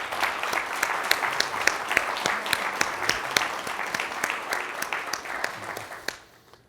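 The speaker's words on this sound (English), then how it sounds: "Please give them a round of applause." An auditorium audience at a university's annual address applauds steadily, a dense wash of many hands clapping that holds for several seconds and then quickly dies away.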